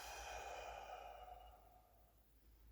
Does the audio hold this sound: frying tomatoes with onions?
no